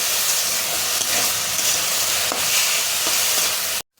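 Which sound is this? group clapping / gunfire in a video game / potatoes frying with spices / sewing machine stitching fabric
potatoes frying with spices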